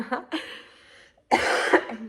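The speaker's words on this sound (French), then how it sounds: "Je vais essayer de pas tousser tout le temps" Two separate close-up coughs, a short one followed by a longer, harsher one, in an otherwise quiet room.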